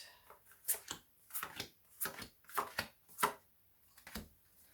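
Soft, quiet riffle-like flutters of tarot cards being shuffled, repeated in short bursts with brief gaps, close up and with no talking.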